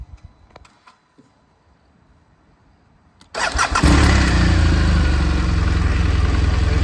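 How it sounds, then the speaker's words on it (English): A 2015 BMW R1200RS motorcycle engine cranks and fires up after a few seconds of quiet, then settles into a loud, steady, close idle. "Let's get the bike started up and you can hear how she sounds."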